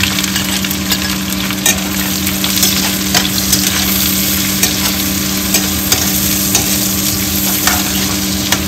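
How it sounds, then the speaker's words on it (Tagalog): Garlic and onion fry in hot oil, a loud, close, continuous sizzle with occasional stirring scrapes and clicks over a steady hum, and no one speaks. "Bawang at sibuyas, pagsabay na po natin."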